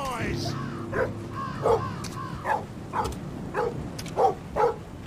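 Repeated dog barks in the horror game Metel Horror Escape, at a steady pace, slightly distant and muffled, over a constant low background hum.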